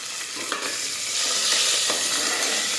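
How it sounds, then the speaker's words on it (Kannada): Cut green chillies fry in hot oil for masala rice, giving a steady close sizzle and crackle with a few sharp pops, growing slightly louder midway, with no talking. "ಸ್ವಲ್ಪ ಮೆಣಸಿನಕಾಯಿ ಫ್ರೈ ಮಾಡಬೇಕು"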